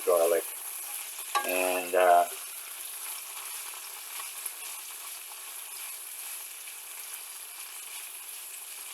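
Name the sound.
garlic frying in a pan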